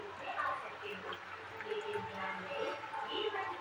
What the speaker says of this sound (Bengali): তারপর এখানে আমি একটু জল দিয়ে দেবো।